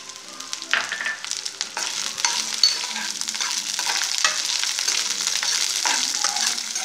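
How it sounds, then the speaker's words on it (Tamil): Small onions (shallots) sizzle and fry in a hot pan while being stirred for curry leaf chutney, a steady bright crackle with scraping stir strokes throughout, no talk. "இந்த ஸ்டேஜில் வெங்காயத்தை போட்டுக்கிடுவோம்,"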